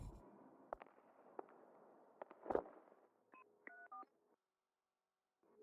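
A telephone dialing a call, a few faint clicks and thumps followed by a short run of clear dial tones, then near silence.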